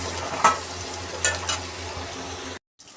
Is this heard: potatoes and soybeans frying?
yes